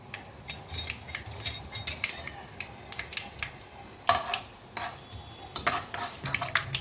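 Cumin, urad dal and chana dal crackle and sizzle in hot oil as a spoon stirs the pan, giving a steady frying hiss broken by short scraping clatters, close and moderately loud.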